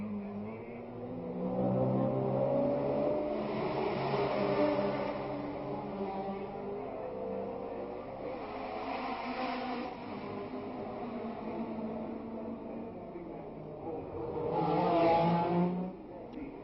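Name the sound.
Formula 1 race cars at 1967 Monaco Grand Prix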